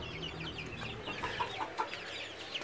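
Chickens and a Zibrit rooster being fed hazelnuts give soft, scattered clucks and chirps over a low background hum, moderately quiet and close.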